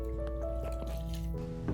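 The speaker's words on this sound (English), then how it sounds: "Stir the noodles around until the noodle starts to soften." Glass noodles stirred around in a pot of hot water give soft squishing and dripping liquid sounds, close and fairly quiet, with a low steady hum in the background.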